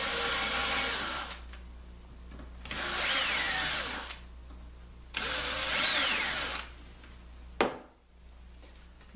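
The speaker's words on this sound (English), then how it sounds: "I'm pre-drilling a little bit." Power drill with a 1/8 inch bit pre-drilling into wood for a T-nut on a table leg, three sustained loud whirring bursts separated by short pauses, alone without talk.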